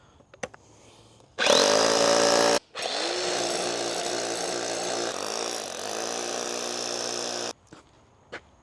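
A power drill starts abruptly, whines loudly, pauses briefly, then grinds steadily into concrete for several seconds before stopping, close up with a few clicks around it, while installing a swimming pool cover.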